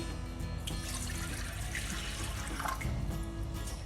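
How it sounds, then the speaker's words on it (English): Lukewarm water, about a cup, poured into a bowl while making focaccia bread gives a steady splashing, trickling flow that runs the whole time, close and moderately loud, with a low background hum. "1 cup of lukewarm water. It should not be very hot, and put it in a bowl"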